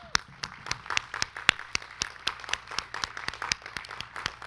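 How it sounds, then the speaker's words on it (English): Audience at a graduation ceremony claps for faculty, a thin, sparse applause of distinct individual hand claps falling in an uneven rhythm, moderately close in a quiet room, with no talking. "Let's give them all a round of applause"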